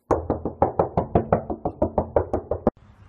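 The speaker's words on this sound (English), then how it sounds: "how to knock down a door with one hand" Someone pounds on a door with one hand in a rapid, even series of about fifteen loud, close knocks, then stops abruptly.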